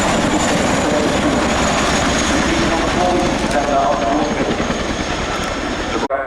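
Heavy twin-rotor Chinook helicopter flying a role demonstration at the RIAT 2025 air show, a loud, steady broadband rotor and engine roar filling the whole clip before cutting off abruptly at the end.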